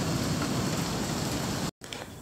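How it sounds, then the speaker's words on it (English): Steady rain pours down during a storm, a dense even hiss of drops on surfaces that fills the clip, briefly cutting out near the end before resuming. "The wind has calmed down quite a bit and it's just raining."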